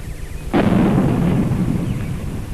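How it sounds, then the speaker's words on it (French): A cannon fires in a film's historical drama scene, a single sudden heavy boom followed by a long rumbling roll that slowly decays, loud and alone. "Les coups de canon appellent le peuple pour écouter le discours du premier conseiller."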